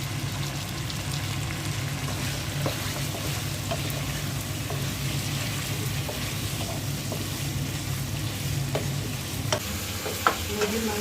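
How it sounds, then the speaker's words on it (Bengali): Country chicken with potatoes being stir-fried in a pan, a continuous loud sizzle with scattered spoon scrapes and taps against the pan, no voices. "আর মুরগিটা এখন ভালো করে কষিয়ে নেব।"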